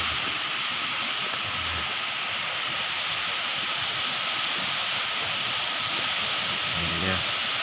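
Lodovavo waterfall in Lembata, East Nusa Tenggara, produces a steady broadband rushing roar throughout, constant and fairly loud, with faint voices and footsteps barely emerging beneath it.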